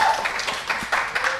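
Audience applause in a studio during the Indonesian talk show Peci dan Kopi: a short burst of clapping, moderately loud and steady for about a second and a half, with no voices over it.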